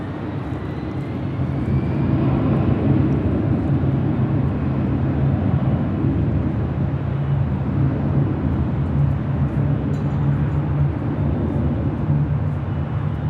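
An Allegiant airliner taking off from runway 24 left at Los Angeles International Airport, a steady loud jet engine roar that holds constant and fills the whole stretch.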